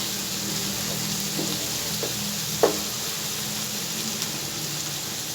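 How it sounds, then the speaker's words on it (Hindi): Masala with coriander frying in a pan: a steady, fairly loud sizzle fills the whole stretch, with a few faint utensil taps and one brief sharper knock. "इसको जस्ट हम 30 सेकंड फ्राई करेंगे"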